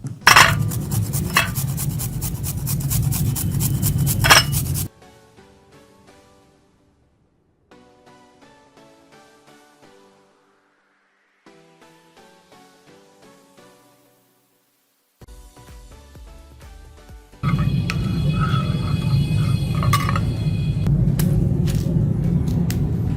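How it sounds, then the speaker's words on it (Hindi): Raw turmeric root is peeled with rough, rasping scrapes that come loud and close for several seconds, fall away during a quiet melodic interlude, then return just as harsh near the end. "कच्ची हल्दी चाहिए और मैं इसको थोड़ा सा छील लूंगी।"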